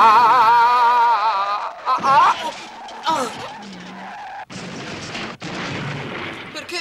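A car skids in an animated Italian series, tires screeching as it nearly runs someone down; a loud burst of harsh broadband skid noise follows music and voices, then a short break and more scraping.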